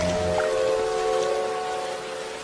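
Steady rain patters on a surface, a brief continuous hiss of falling drops with a faint tonal hum behind it and no voices.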